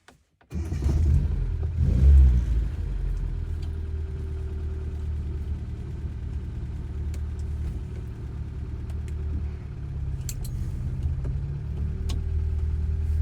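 A Datsun 510 driving on a test drive gives a low, steady engine drone and road rumble heard from inside, with a brief swell early on and faint clicks over the continuous hum.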